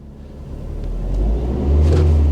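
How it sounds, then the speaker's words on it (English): An Altezza engine fitted with individual throttle bodies revs up steadily from idle, a loud close rumble that climbs and swells toward the end with no talking. "I'm going to rev the engine and take my foot off very gently."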